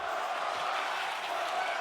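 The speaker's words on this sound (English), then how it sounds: "crowd chanting one more time" A wrestling video game crowd chants from the arena stands, a dense, roaring wash of many voices that stays steady and loud across the whole short moment.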